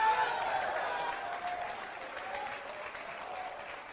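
Audience clapping at a motivational success seminar, a steady, dense round of applause from a sizable crowd that gradually softens slightly over a few seconds.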